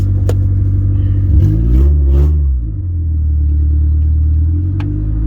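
A newly installed car engine, just started, idles loudly and steadily nearby, with a couple of brief revs rising and falling before settling back into a rumbling idle.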